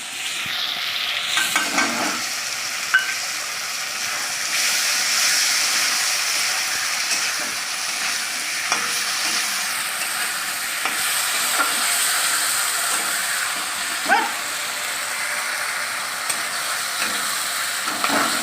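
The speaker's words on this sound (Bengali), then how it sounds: "এটা একটু ভেজে নেবো" Paste of ginger, garlic, black pepper, cumin and coriander frying in a pan: a continuous close, hissing sizzle with occasional scraping stirs and small pops running steadily throughout, no voices.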